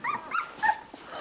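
A puppy gives a small growl, three short rising grumbly bursts close to the microphone, followed by a faint whimper.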